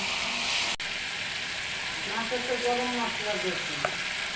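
Tengra fish frying in a pan with ground cumin, onion and chilli paste, a steady loud sizzle with stirring scrapes and one sharp knock of the utensil against the pan.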